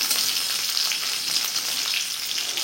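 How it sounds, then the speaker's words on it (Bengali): Fourteen mixed greens frying in hot oil tempered with black cumin and garlic, a continuous bright sizzle close up with faint stirring, steady throughout with no talk. "আর এখানে আমি কালো জিরে রসুন সম্বরা দিয়ে তেলটা বসিয়েছি, এই দিয়ে আমি 14 শাকটা করে নেবো।"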